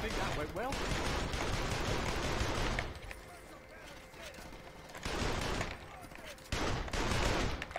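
Gunfire bursts in the Saints Row 2 video game, a loud dense volley for about three seconds, a quieter lull, then two more short bursts, with game voices mixed in.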